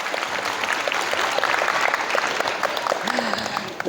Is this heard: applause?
yes